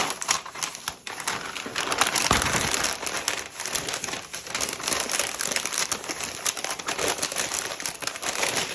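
Newsprint paper crinkling and crumpling close up as a piece is wrapped for moving, continuous busy rustles and crackles throughout with no talking.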